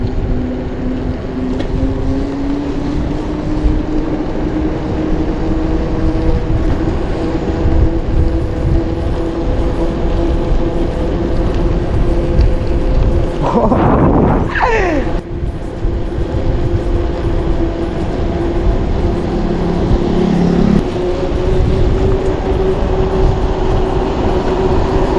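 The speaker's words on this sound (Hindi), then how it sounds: "अबे अपने ही टायर का आवाज आ रहा है" Bicycle tyres on a road after a 60+ km ride give a steady broadband rolling hum that stays loud and continuous throughout, with a brief louder whoosh midway, like a passing vehicle or gust.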